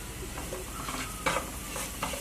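Ground red chili, crushed chili and salt fry in hot oil in a pan for aloo bharta, with a hissing sizzle broken by sharp stirring scrapes and clicks.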